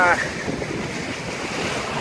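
Strong wind buffets the microphone in a steady, rushing roar, with a low rumble throughout and no voices.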